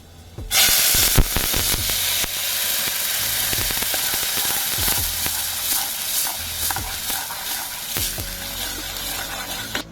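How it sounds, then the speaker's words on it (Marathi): Masala paste sautés in hot oil with browned garlic for a Malvani dry fish curry, bursting into a loud sizzle as it hits the pan and then crackling steadily with stirring scrapes, with no talk. "वाटापाता तेलात परतून झाला"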